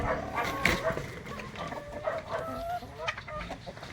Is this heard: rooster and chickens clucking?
yes